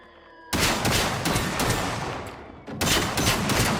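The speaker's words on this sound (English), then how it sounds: "We'll unload the shotgun here." Shotgun blasts from the video game Generation Zero, a semi-auto shotgun fired in a loud, dense volley that starts abruptly, dips briefly, then resumes with heavy booming reports close up.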